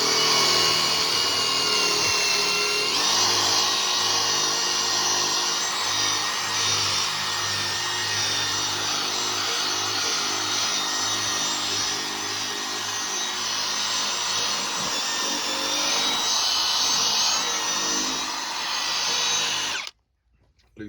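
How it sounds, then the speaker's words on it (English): A toilet brush spun by a power drill scrubs the carpet of a Vauxhall Corsa, giving a loud, continuous whirring whine with a scratchy texture for about twenty seconds before it cuts off abruptly. "cleaning carpets in a car before you wet vacuum is basically a bog brush on the end of a drill"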